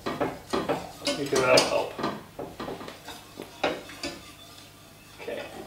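A whisk beats chocolate milk in a metal pot on the stove, making a busy, close run of scraping clinks and rattles that swell in the middle, while people talk over it.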